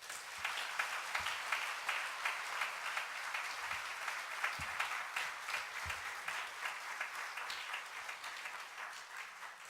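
A church congregation applauds at a Sunday service, welcoming a visiting pastor to the pulpit, with steady, dense clapping sustained throughout at moderate distance.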